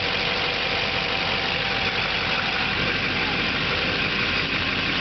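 Chevy Silverado 2500 diesel pickup idling with an exhaust leak where the downpipe meets the turbo, a steady close rumbling chug with hissy broadband noise, constant and alone.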